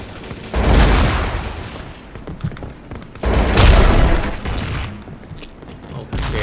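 Bursts of gunfire in the video game King of Gun, two dense rattling volleys separated by brief lulls, loud and continuous with explosive thumps.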